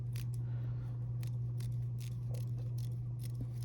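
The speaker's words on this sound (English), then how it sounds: "let's try the Fiskars scissors on the MP600" Short-bladed Fiskars scissors on a used Leatherman MP600 multitool snip repeatedly in a quick, even rhythm, each cut a close, dry click above a constant background hum.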